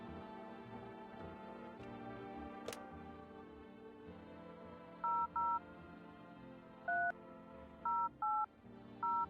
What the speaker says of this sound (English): Ring, ring, ring, ring. Phone call, phone call.